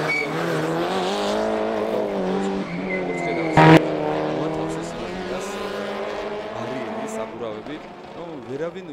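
A race car climbs the Didgori hill during a stage of the Georgian hill climb championship. Its engine revs loud and sustained, rising and falling through gear changes, with a sharp crack midway, under a commentator's continuous talk.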